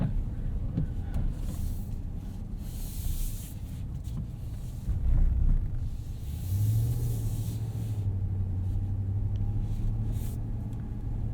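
A 2018 Ram 1500 Sport Crew Cab 4x4 pickup driving on snowy winter roads, heard from inside the cab as a steady low engine and road rumble with a brief heavier thump and a sustained low drone.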